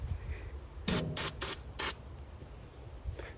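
Turbo spray can paint hissing onto 1967 Camaro body panels in four short bursts, close and fairly loud, with pauses of quiet room noise between them.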